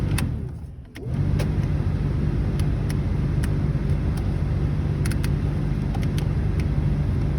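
The fan runs in a 1996 Pontiac Formula with a six-speed, making a steady, loud whooshing hum with a low drone after a brief dip near the start, dotted with faint clicks and no talk.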